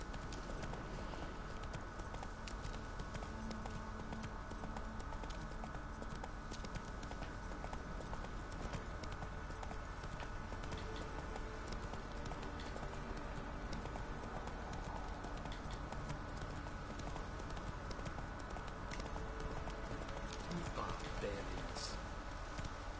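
A horse gallops in The Witcher 3, its hoofbeats a steady, low rhythm under continuous game ambience and music while someone speaks now and then.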